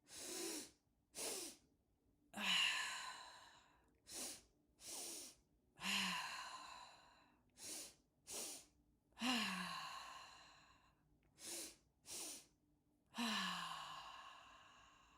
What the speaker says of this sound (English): Give me a nice long inhale.